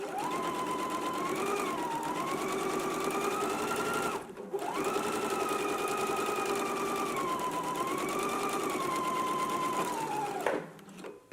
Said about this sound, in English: back stitch at the beginning and at the end, and we're stitching in a 5/8 of an inch seam allowance